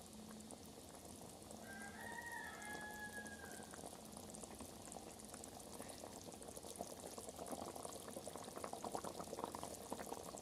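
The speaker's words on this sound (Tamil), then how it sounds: "மீன் குழம்பு நல்லா கொதிக்குது" A pot of fish curry bubbles at a steady simmer, a soft continuous gurgle and crackle of boiling liquid heard up close with no voices.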